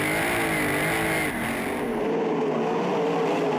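Sprint cars race at Latrobe Speedway, a dense, loud engine roar holding steady with a slight pitch shift as the field sweeps past, then easing as they pull away.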